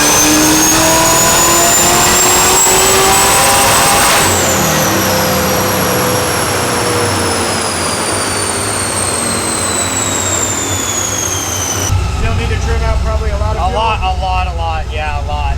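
A 1967 Camaro with a Magnuson supercharged LSA V8 on a Holley Terminator, recorded close and very loud as it revs hard and climbs steadily in pitch with supercharger whine, then drops off and rumbles down at the end.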